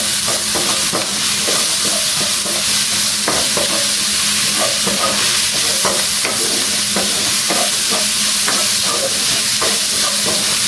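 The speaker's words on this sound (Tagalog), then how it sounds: "Hanggang sa caramelize yung bawang sibuyas." Garlic and onion sautéing in a pan for beef morcon, a steady loud sizzle and hiss with repeated scraping stirs throughout, no talking.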